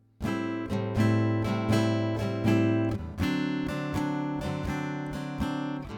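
Acoustic guitar strummed in a bouncy, swung long-short rhythm, repeating steady chords with crisp attacks, played alone and close.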